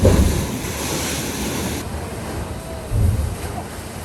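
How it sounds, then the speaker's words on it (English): Rumbling surf rolls into a rocky inlet on Mount Desert Island with a steady roar and wind buffeting the microphone, a heavier wash of water surging near the end. "the loud sound the waves make when rolling into the inlet"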